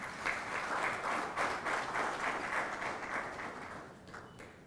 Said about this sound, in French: Si on peut applaudir, s'il vous plaît.